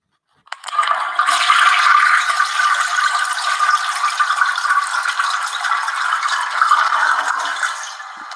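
A toilet flushes with a sudden start, then a sustained rushing, gurgling swirl of water that keeps up steadily for several seconds, close and loud with no talking.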